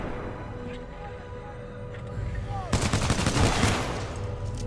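Rapid automatic gunfire in the video game Titanfall 2, a dense burst of fast shots rising out of a busy game soundscape, loud and close, with no talk over it.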